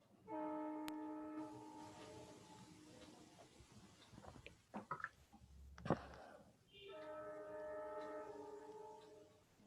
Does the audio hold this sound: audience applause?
no